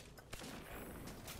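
Gunfire in Destiny 2 rattles in a quiet, fast burst of shots beneath a dense wash of game noise, with a single sharper crack standing out early.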